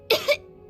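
Two quick coughs from a sick character in Genshin Impact, close and fairly loud, the second slightly weaker, followed by near silence.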